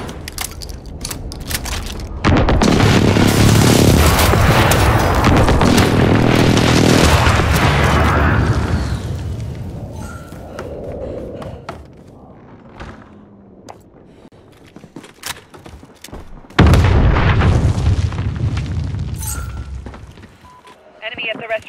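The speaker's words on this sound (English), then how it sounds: "Friendly precision airstrike inbound." Precision airstrike explosions boom and rumble in a military video game, a long loud roaring blast followed by a quieter stretch and a second heavy detonation, with crackling debris throughout.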